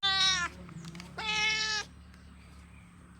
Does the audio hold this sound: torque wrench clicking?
no